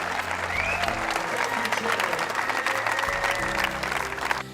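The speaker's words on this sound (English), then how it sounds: "Big round of applause." A tennis crowd at the Stowe Mountain Lodge Pro Tennis Classic applauds both players, a steady wash of clapping that holds at an even level throughout, with faint voices mixed in.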